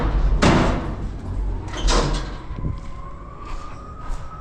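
A door opening and closing, heard as two sharp, close knocks or slams about a second and a half apart, with a fainter thump after, over a low engine rumble and a thin steady whine.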